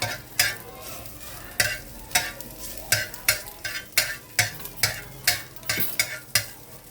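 Eggs scrambled in a pan for a sandwich filling, a rapid series of sharp scraping spatula strokes, about a dozen rhythmic scrapes over a low sizzle, close and clear with no talking.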